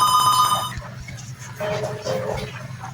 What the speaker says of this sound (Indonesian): Siapa sih dari tadi telepon terus?